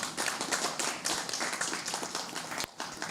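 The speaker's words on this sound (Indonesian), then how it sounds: "Tepuk tangan dulu buat Hopos." An audience claps for Hofos at a Halal Bi Halal gathering in Bandung, a steady, fairly distant round of hand clapping running throughout with a brief dip near the end.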